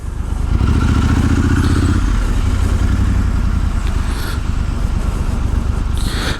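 A Triumph Scrambler 1200 XE motorcycle filtering through morning traffic on the A3, its engine rumbling loud and close with a throaty pulsing note, plus rushing wind and surrounding road noise.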